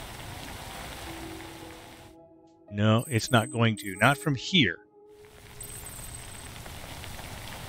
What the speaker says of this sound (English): Damn rain won't quit.